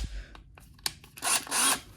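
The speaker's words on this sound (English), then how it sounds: "and the drill works too" A DeWalt cordless drill gives a couple of short whirring bursts, close by, after some light clicks and handling noises.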